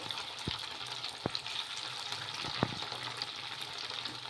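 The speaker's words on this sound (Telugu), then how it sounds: "అన్నీ వేసుకున్న తర్వాత హై ఫ్లేమ్లో పెట్టుకొని ఫ్రై చేసేసుకోవాలి చూడండి" Leftover rice frying in a pan over a high flame, a steady sizzle broken by a few sharp clinks of a spoon stirring against the pan, close and unaccompanied by voices.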